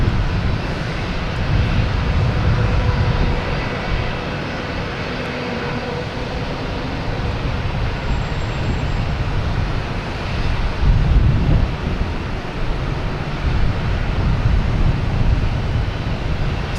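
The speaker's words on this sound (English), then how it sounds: "JetBlue and E190 heading to Philadelphia" A JetBlue Embraer E190 jet takes off toward Philadelphia from Boston Logan, a steady, loud low roar of engines that holds for the whole stretch with broadband rushing noise and no voices.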